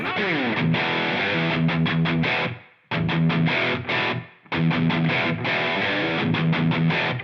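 Distorted electric guitar played through a Line 6 POD Go on a Soldano Lead preset with reverb, loud, sustained chords and rhythmic chugs broken by two brief pauses where the reverb tail fades.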